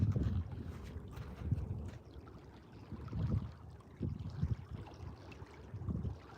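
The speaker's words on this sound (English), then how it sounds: "It is starting to get a little windy though." Gusty wind sweeps across the water during a carp fishing outing, rumbling low into the microphone in uneven surges that swell and ease over several seconds, with no voices.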